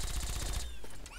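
In Fallout 3, a robot fires at someone through a fence: a short, rapid burst of gunfire pops for about half a second, then cuts off into quieter game ambience.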